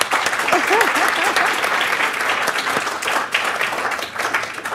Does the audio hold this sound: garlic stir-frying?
no